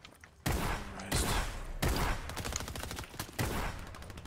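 Rapid bursts of gunfire in the battle royale game Fortnite, loud and close, with several sharp shots and clustered volleys repeating irregularly over a few seconds and no speech.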